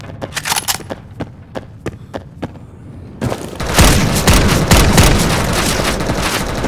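Shotgun blasts in Left 4 Dead 2: a string of sharp, separate cracks, then a heavy barrage of booming shots and crashing impacts that grows louder and denser.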